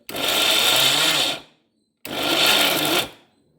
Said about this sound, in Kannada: ಮಿಕ್ಸಿಗೆ ಹಾಕ್ಕೊಳ್ಳುವಾಗ ಆನ್ ಆ್ಯಂಡ್ ಆಫ್ ಒಳ್ಳೆಯದು